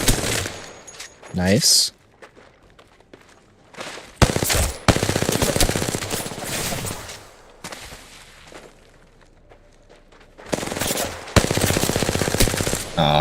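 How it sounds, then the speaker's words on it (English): Bursts of automatic gunfire in the video game Apex Legends, several rapid rattling volleys separated by quieter gaps, loud and close, with a brief spoken word in between. "Bullets are shooting at me."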